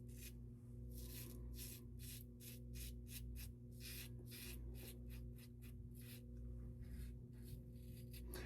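A safety razor scrapes across lathered skin in a series of short, quiet, close strokes, with a steady low hum underneath and no talking.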